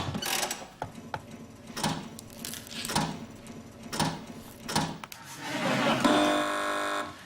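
Slot-machine-style spinning effect from a TV news quiz show round, with clicking mechanical ticks and rising whirring bursts repeating at a steady rhythm, ending in a sustained bright buzzing tone.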